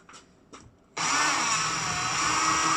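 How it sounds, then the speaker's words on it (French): A power drill starts abruptly after a couple of faint taps and then runs at a steady, loud, continuous whine, boring a hole in a wall to take a Molly hollow-wall anchor. "On perce."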